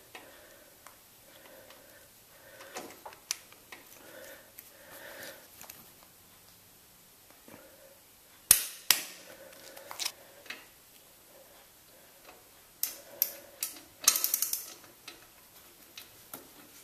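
A torque wrench clicks while an axle on custom bicycle forks is tightened, giving faint, soft ticks in a quiet workshop with a few louder clanks later.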